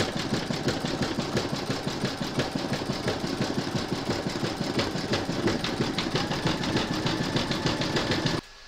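An embroidery machine stitches a flamingo appliqué beak in black thread, a fast, steady mechanical needle rattle with an even rhythm, close and loud, running continuously before stopping at the end.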